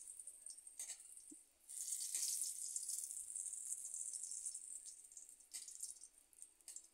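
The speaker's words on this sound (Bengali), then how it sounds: "দেখুন আমি উল্টিয়ে পাল্টিয়ে কাঁচামরিচ ভালো করে ভেজে নিচ্ছি।" Green chillies frying in a pan, a soft steady hiss and sizzle that swells after a couple of seconds, with faint occasional clicks of the pan, fairly quiet.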